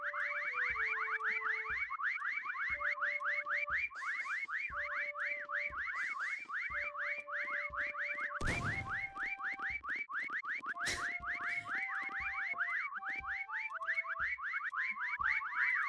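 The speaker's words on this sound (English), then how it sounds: "What is up with these people just whistling away?" Players whistle steadily in Meccha Chameleon, rapid repeating high chirps that run throughout alongside sustained whistled tones, with a brief burst of noise partway through.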